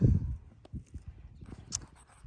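Hooves of a horse clop softly on the ground as it walks nearby, with a handful of irregular dull thuds after a louder rumble at the start and light rustling between steps.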